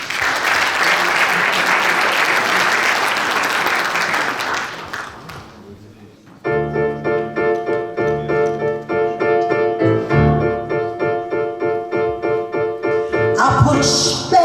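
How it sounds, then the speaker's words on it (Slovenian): Audience applause for a pianist at a cultural program during an asphalt and bitumen conference in Bled fills the first six seconds with dense, loud clapping that fades out, after which music follows. "Prosim še en aplavz."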